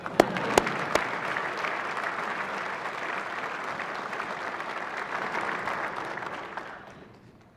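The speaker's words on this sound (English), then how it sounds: "You can clap for them." An audience in a legislative chamber at a State of the Judiciary address applauds senators and representatives, with sustained, even clapping from many hands that starts with a few sharp claps and fades out near the end.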